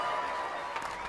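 A standing concert audience applauds and cheers after a performance of a Beethoven piece. It comes as a short, dense wash of crowd noise, steady and moderately loud.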